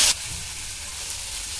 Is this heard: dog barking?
no